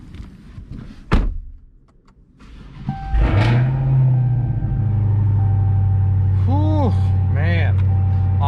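A car door thunks shut, then an engine cranks and catches, settling into a steady low rumble that continues while a voice speaks briefly.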